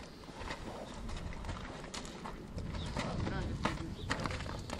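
A stallion at a breeding stud in Rușeni, Satu Mare, is heard moving, its hooves clip-clopping faintly under steady outdoor noise while people talk nearby.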